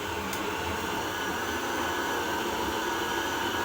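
Blender whirring as it purées cassava in a home kitchen, a steady, unbroken wash of motor and churning noise that holds at an even loudness throughout.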